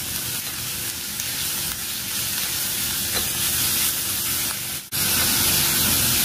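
A medium-sized onion fries in oil for a veg cheese corn franky, giving a steady, close hiss of sizzling that stays even throughout, with a brief dip near the end.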